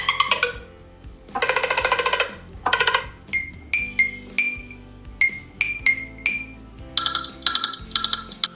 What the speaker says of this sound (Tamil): உள்ள வந்து ரிங்டோன், நத்திங்கோட பல ரிங்டோன் இருக்குது.